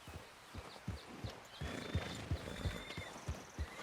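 A horse in Red Dead Redemption 2 clip-clops at a walk with steady, close hoofbeats and lets out a whinny partway through, with a faint background ambience.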